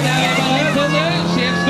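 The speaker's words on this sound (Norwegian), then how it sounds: "kjører nå en liten Opel Astra" Small Opel Astra race car driving on a circuit, its engine droning steadily throughout at moderate distance, mixed under commentary.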